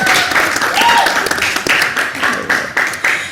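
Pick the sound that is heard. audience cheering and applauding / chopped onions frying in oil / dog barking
audience cheering and applauding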